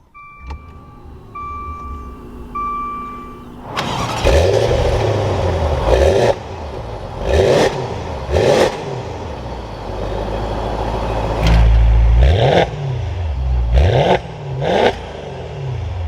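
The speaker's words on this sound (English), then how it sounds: "now that we're inside with my foot on the brake, it's time to start it up" A 2021 Maserati Ghibli Trofeo heard from inside the cabin: chimes, then the engine cranks and fires, followed by a series of sharp revs rising and falling and a settled idle, loud and close with no talking.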